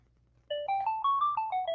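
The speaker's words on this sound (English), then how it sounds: "that's someone calling my office phone" An office phone rings with a melodic electronic ringtone, a rising and falling run of bright beeping tones that starts abruptly and repeats steadily over a faint low hum, with no talking.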